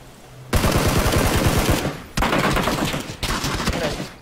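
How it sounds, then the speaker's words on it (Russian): Automatic rifle fire rattles into a smoke cloud in PUBG duo play, loud close bursts broken into three long volleys with short gaps between them. "Ну я просто в дым стрелял, у меня выбора не было."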